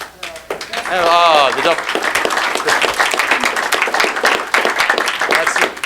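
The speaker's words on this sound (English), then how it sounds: "That sounded like a live golf double bogey clap right there." A live audience gives a stretch of lukewarm, polite clapping, a steady patter of many hands that holds for several seconds, with voices rising over it early on and talk continuing beneath.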